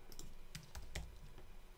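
Quiet typing on a computer keyboard, a handful of irregular key clicks with a few heavier taps, close and faint with no talking.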